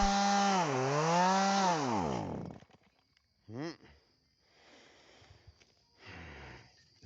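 A chainsaw revs loud and close during yard work, its engine pitch rising and falling for about two seconds before cutting off, followed by a few quieter scraping and rustling sounds.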